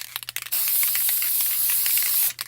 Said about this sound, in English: it's clear gloss spray paint, basically. So I take a couple of swipes of that.